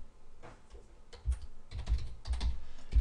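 Typing on a computer keyboard while entering code in an Excel spreadsheet editor: a quick, uneven run of close, crisp key clicks with no talking.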